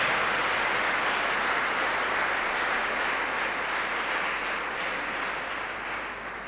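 A church congregation claps steadily during a Sunday Mass homily, a dense sustained wash of applause that carries on throughout and gradually tapers off near the end.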